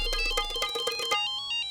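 A mobile phone ringtone plays loudly and close by, a bright repeating electronic melody that runs for over a second and then cuts off, leaving a fading tone.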